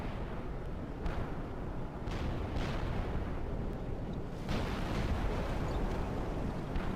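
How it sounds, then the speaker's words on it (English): Distant gunfire from AI teammates in the War Thunder video game, heard from a BMP-1, as a continuous rumbling barrage of booms and bursts with a few sharper thumps, fairly faint and with no talk. "Our AI boys are shooting at something up there."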